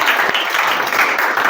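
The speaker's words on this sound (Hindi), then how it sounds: "संतोष के लिए ताली हो जाए।" Children clap together for a classmate after a reading, a brisk, dense patter of small hands that stays even and fairly close for the whole moment.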